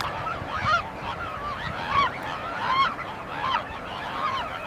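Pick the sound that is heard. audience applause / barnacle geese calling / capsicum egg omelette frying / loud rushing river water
barnacle geese calling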